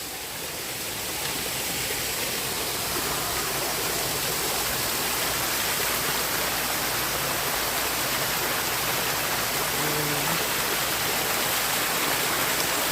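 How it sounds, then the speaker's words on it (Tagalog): Flowing stream water at the Batis Aramin Resort pours along toward a pool, making a steady, close rushing hiss much like a small waterfall, continuous and even for the whole stretch without a break. "dito pala galing yung agos"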